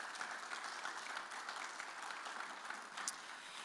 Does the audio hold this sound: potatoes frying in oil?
no